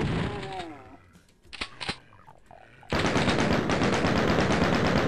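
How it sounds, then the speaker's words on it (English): A chaingunner firing in Doom 2, a loud, rapid stream of near gunshots that breaks in after a rising game sound and scattered clicks, continuing without pause to the end. "Oh god, chain gun dude."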